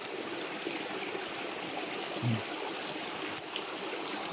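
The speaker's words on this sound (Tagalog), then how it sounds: "sundan na agos ng tubig" A forest stream flows with a soft, constant rush of water, steady and moderately distant, with a brief low thump and a faint click breaking the even wash.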